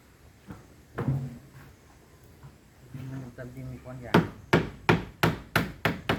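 A car door trim panel being hammered into place, first a few scattered knocks under people talking, then a loud regular run of close, sharp blows near the end.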